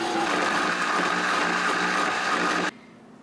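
A kitchen blender whirs loudly and continuously as it blends a small amount of ingredients with a little water, then the motor cuts off abruptly, leaving a quiet room.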